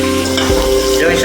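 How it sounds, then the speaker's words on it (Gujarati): Chopped tomatoes hit hot tempering oil with cumin for masuriya dal, giving a loud, dense, steady sizzle that carries through a short moment alone. "મસ્ત ટમેટાનું કટિંગ આપણે વઘારવા મૂકી દીધું છે"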